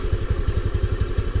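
A carbureted 2022 Honda Navi motorcycle idles shortly after a cold start, running rich with a rapid, even, close thumping putter and light mechanical clatter.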